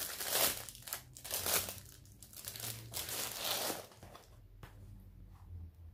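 Packaging from an online craft shop order crinkles and rustles as it is opened by hand, with close, irregular bursts of crackling plastic and a quieter stretch near the end.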